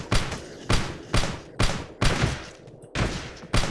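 Explosions and gunfire in the top-down shooter Teleglitch: about seven sharp, heavy blasts in an uneven rhythm, each hitting hard and decaying quickly, loud and close, with no talking.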